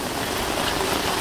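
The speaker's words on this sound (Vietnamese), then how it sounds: "Trời mưa bong bóng bập bồng." Heavy rain pours down outdoors in the Vietnamese countryside of Bến Tre during a flood, a dense, steady hiss of drops hitting surfaces and water with no voices.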